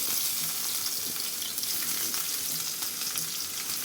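Garlic fries in hot oil in a pan after chillies, making a dense, steady sizzle with faint stirring scrapes and no talk.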